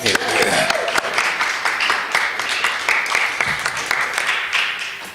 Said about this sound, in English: Dr. Bolden, that deserves a round of applause.